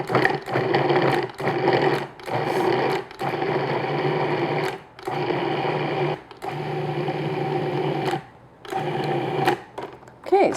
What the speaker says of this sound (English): If you're using a food processor, you'll hear it kind of starts to sound different.